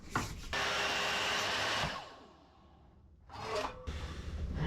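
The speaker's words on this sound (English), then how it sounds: "just a couple of miter cuts on here, and that'll sort that out. And for that, the rarely used but very grateful for compound miter saw." A compound miter saw cuts wood: a loud buzzing bite through the stock, a winding-down whine, then a second short cut, close with no talking.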